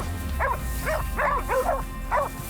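Hunting dogs bark at a wild boar bayed in a ditch, five sharp barks in an irregular sequence, fairly close and loud over a low outdoor rumble.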